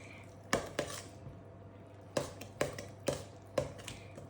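Chocolatey banana bread batter is stirred in a bowl, giving several quiet, spaced clinks of a utensil knocking against the bowl, with faint steady room noise underneath.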